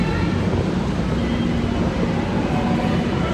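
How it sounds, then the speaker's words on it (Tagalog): An MRT metro train gives a loud, constant rumble with rolling wheel noise and a low hum, heard from inside the car without pause. "nandito na kami ngayon sa MRT"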